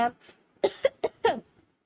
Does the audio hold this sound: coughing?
yes